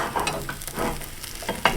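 A pickle and bacon grilled cheese sandwich cooking in a pan on low heat gives a soft, steady sizzle, with a few light scrapes and taps from a utensil, close by.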